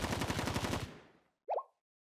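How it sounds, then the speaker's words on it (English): A rapid burst of gunfire rattles in the anime-style game Blue Archive, about a second of fast repeated shots that decays away, followed after a brief silence by one short, muffled pop. "it's just the sound of gunshots"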